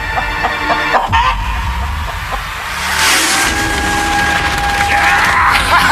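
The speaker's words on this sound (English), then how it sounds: "Oh, this chicken's actually pretty chill." Chicken clucking close by after being caught, set against steady outdoor background noise, with a brief higher squawk partway through and no clear talk over it.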